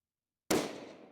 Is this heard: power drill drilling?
no